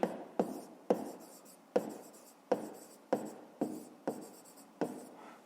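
Pen or pencil writing on paper while working a fifth-grade math exercise, a series of about nine close, soft scratching strokes each starting with a tap and fading, evenly paced over several seconds.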